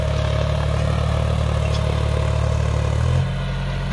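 A John Deere 5050D tractor labors as it drags an 8×8 disc harrow through a wet, muddy field, its diesel engine droning in a steady low hum that shifts pitch near the end.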